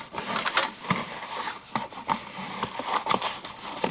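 Card paper folded and pressed flat under a hand, giving a run of dry scratchy rubs and scuffs in uneven strokes, close and fairly quiet, with no talking.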